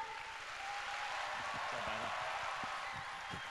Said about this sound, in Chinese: 好，掌声。